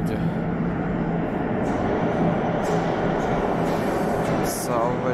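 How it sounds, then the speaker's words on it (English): Tehran subway train arriving at a station, a loud continuous rumbling roar of wheels and carriages filling the platform, with faint voices in the background. "Subway is arriving."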